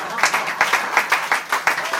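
An audience claps for a play's cast at a beach café, a steady patter of close hand claps under a speaking voice.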